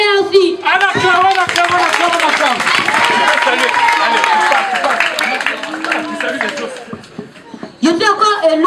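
A crowd claps and applauds for a speaker at a Congolese gathering, a dense continuous patter of hands under cheering voices and chatter, loud and close for most of the stretch.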